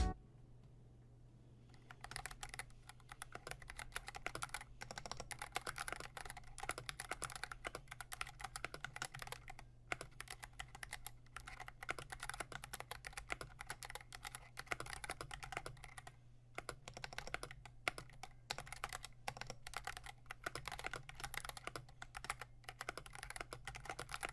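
Steady typing on a GK64 mechanical keyboard fitted with Zealios Purple V2 62g tactile switches, a close, crisp run of rapid key clacks with brief pauses over a faint low hum, with no voices.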